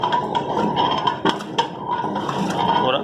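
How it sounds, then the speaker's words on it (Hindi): A ladle scrapes and clinks continuously against a large commercial pot of 40 kilos of rabri kheer over low heat, steady close metallic stirring with occasional sharper knocks. "चमचा मुसलसल चलाते रहना है"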